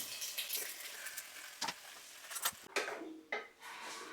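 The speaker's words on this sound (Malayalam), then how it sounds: "കട്ട് ചെയ്ത് വെച്ചിരിക്കുന്ന നമ്മുടെ സവാള, പിന്നെ തക്കാളി, ബാക്കി ഞാൻ പറഞ്ഞ എല്ലാ ഐറ്റവും ഒരുമിച്ച് തന്നെ അങ്ങോട്ട് ഇടുവാണ്" Cut onion, tomato and spices tipped together into a hot pan for fish curry, frying with a crackling sizzle broken by clanks of a utensil against the pan and stirring scrapes, no talking.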